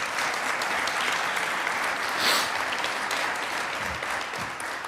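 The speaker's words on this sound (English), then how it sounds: "Let's give them a big round of applause." Sustained applause from a large audience at a National Vietnam War Veterans Day welcome home ceremony, dense and steady throughout with a slight swell midway.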